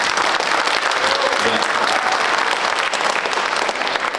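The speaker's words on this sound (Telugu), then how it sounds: "సో ఒకసారి గట్టిగా చప్పట్లు" A crowd at a Sankranti celebration held by a Telugu association in North Texas claps hard and steadily, a dense, loud, continuous wash of applause with no pauses.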